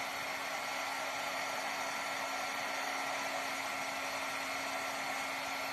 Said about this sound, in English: now I'm going to take my heat tool to this